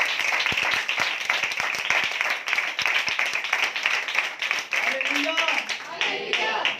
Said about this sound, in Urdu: اس بہن کے لیے تالیاں بجائیں